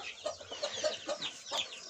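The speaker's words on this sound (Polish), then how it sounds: "puściłem sobie kochinkę olbrzymią" A giant Cochin hen clucks softly nearby, a handful of short clucks in an uneven rhythm over quiet coop noise.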